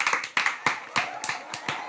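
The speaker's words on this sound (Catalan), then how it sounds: "Un fort aplaudiment per ell." Studio audience clapping for the winner of a Catalan quiz show, about a dozen sharp, uneven claps spread over roughly two seconds, close and fairly loud.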